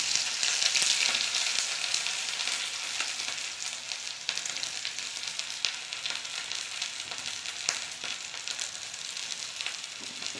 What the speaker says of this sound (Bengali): তেল গরম হয়ে গেছে, দিয়ে দেব পেঁয়াজ কুচি।